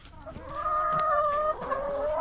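Chickens cluck and squawk up close during morning farm chores, several hens calling over one another in quick bursts.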